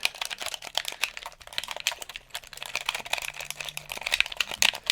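Rapid plastic button clicks and taps, dense and irregular, fairly close and moderately quiet, with no talking.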